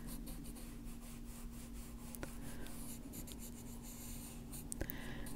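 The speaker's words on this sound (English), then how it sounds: "I'm using the side of this pencil," A pencil held on its side shades across paper in a steady, close, soft scratchy rub that continues throughout with slight rhythmic strokes, no voices over it.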